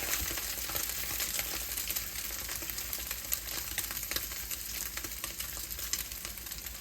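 Scrambled eggs sizzle in a pan, a steady hiss of crackling spatter running continuously at moderate level with faint irregular ticks, no voices.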